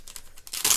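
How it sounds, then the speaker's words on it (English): Protective plastic film is peeled off an Apple Wireless Keyboard in short close, crinkly tearing strokes that build to one louder rip at the end. "So if we just peel this plastic back,"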